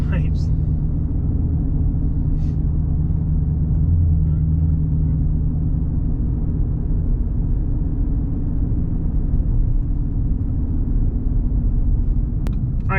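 A 2017 Mustang GT with an MBRP S7239 cat-back exhaust cruising on the road, a steady, loud low rumble of engine and exhaust heard from inside the car throughout, with people talking over it.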